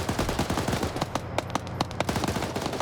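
An M240 machine gun firing in a military video game match, rapid evenly spaced automatic shots in a sustained loud burst over a busy battlefield background.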